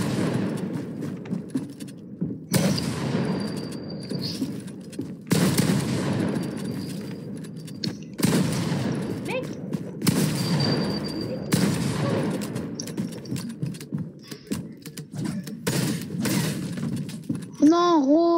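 Video game gunfire comes in dense bursts of rapid, loud shots separated by short silent gaps, with a voice speaking over the action and a rising electronic tone at the end.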